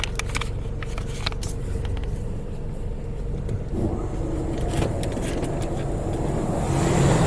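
A car rolls slowly forward into an automatic express car wash, a Mark VII AquaJet GT-98 tunnel, its engine and tires producing a low steady rumble amid the hiss and machinery of the wash bay, with no talking.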